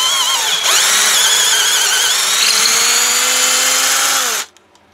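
A power drill re-drilling a hole for a thread repair kit spins continuously at high pitch for several seconds, its whine wavering slightly under load, then cuts off abruptly.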